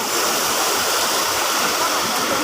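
Water gushes into a swimming pool as it fills, making a loud, constant rushing pour that never lets up.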